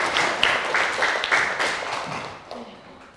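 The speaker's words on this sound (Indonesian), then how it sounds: "Tepuk tangan." Children's audience on an Indonesian television show applauds, a burst of clapping that starts loud and slowly fades over a few seconds.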